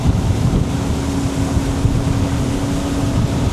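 A Sea Ray 270 with a single outboard runs at cruising speed around 4,500 rpm, about 33 mph, giving a loud, steady engine drone under heavy wind rush and water noise.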